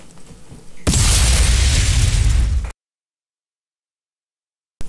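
A sudden loud explosion sound effect, triggered on voice command in a studio control setup, bursts in as a sustained roaring boom for about two seconds and then cuts off abruptly into silence.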